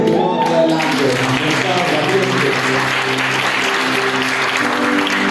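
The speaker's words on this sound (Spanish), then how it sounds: "Y ahora yo quiero que usted le dé un fuerte aplauso a todos esos jóvenes" A church congregation at a Panamanian youth worship service applauds, steady broadband clapping filling the hall for several seconds, with faint sustained music or voices underneath.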